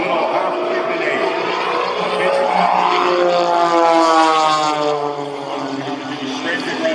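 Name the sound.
biplane propeller engine during airshow aerobatics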